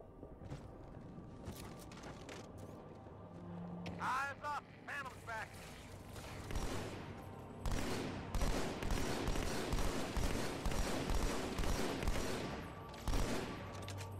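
Halo 2 combat on Legendary difficulty, with Jackal sniper fire and other weapons: scattered sharp shots early, then dense bursts of gunfire and impacts later. Someone talks at times over the shooting.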